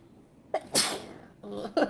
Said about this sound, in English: Sorry, I might sneeze again.